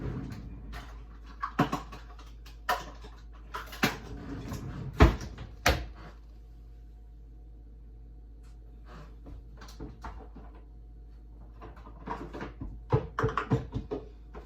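Someone gets a measuring cup out of a kitchen cupboard while cooking a crockpot roast, making scattered close knocks, clunks and door sounds with quiet pauses between them and no talking.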